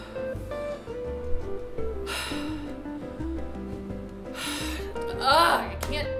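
A voice imitates loud, obnoxious heavy breathing with a few harsh breaths in and out, mixed in among speech and background music.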